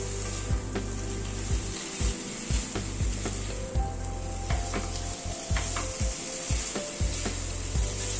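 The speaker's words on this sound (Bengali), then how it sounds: "সয়াবিনটা দিয়ে মশলার সাথে আরেকটু কষাবো, যাতে সয়াবিনের মধ্যে মশলা নুন মশলা সবকিছু ঢোকে।" Soybean chunks fry with spices in a pan, giving a steady close sizzle with a low rumble beneath and repeated scraping stirs at irregular intervals throughout, no voices.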